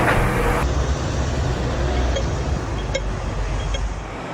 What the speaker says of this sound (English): there's still this kind of loud buzzing above me, and there's traffic sound outside